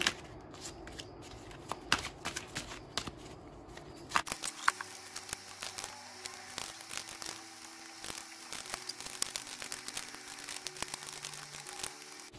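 Tarot cards shuffled before a Celtic cross spread, a quiet close riffle and slide of card stock that continues in soft irregular patter for several seconds, with no voices.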